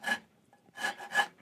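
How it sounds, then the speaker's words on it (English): A razor-sharp microplane rasp files across wood in three short scraping strokes, close and fairly quiet, with brief pauses between them. "these microplane things, they're razor sharp, and they come in a coarse and a fine medium."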